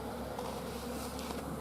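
Many bees fly around close by, a constant buzzing drone with brief louder passes as individuals zip near, no voices.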